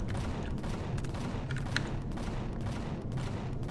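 Overseer enemies in the game Empyrion fire weapons in a dense, continuous rattle of rapid shots and low booms, a busy layered barrage with no talking.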